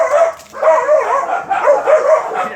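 A female dog barks and yips in quick repeated bursts, loud and close, with a whiny, high-pitched edge throughout.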